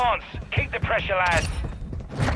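An automated turret in Warzone Mobile fires in short rapid bursts amid game noise, and a player's voice talks over the shooting throughout.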